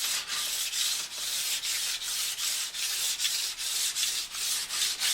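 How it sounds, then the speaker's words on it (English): Sharpening stone scraped back and forth along the steel edge of a new ski during hand tuning, a gritty rasping rub in steady, evenly spaced strokes, close and alone. "You can hear some of the grittiness of the stone going over the edge"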